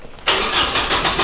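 A Nissan 240 race car on solid engine mounts fires up and settles into a loud, rough idle, the steady engine rumble starting abruptly after a short quiet moment.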